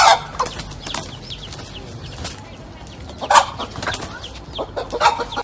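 A chicken clucks in scattered bursts while fighting and pecking at a cobra, with louder flurries near the start, middle and end over a rustling background.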